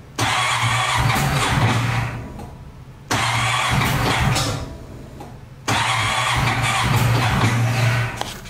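Cold engine on a four-wheeler cranking repeatedly without catching, three long loud grinding starter bursts of about two seconds each separated by short pauses, close and with no talk.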